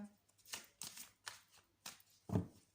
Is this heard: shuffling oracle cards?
yes